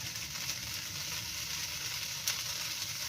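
Egg frying in a little oil in a pan for fried rice, a steady close crackling sizzle that runs unbroken with no talk.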